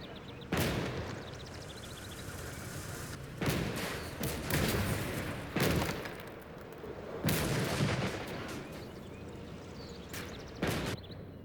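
Gunfire and artillery boom in the World War II strategy game Call to Arms: Gates of Hell, sharp loud blasts erupting every couple of seconds over a continuous low battle rumble.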